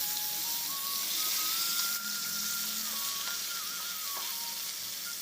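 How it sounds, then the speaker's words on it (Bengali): Bata fish fry in a covered pan, hissing in a continuous sizzle as they are flipped, with a few soft scrapes and bumps over the frying. "মাছগুলি আমার এক পাশ থেকে ভাজা হয়ে গেছে, এখন একে একে আমি সব মাছগুলি উল্টে দেব"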